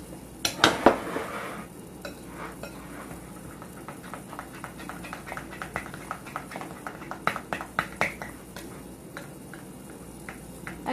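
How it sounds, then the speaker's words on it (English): Melted chocolate for peanut butter cups being stirred in a bowl, with soft scraping and clinking of a utensil against the dish, a few sharper taps near the start and a run of light knocks later on. "Okay, so the chocolate's ready. Let me give it a quick mix."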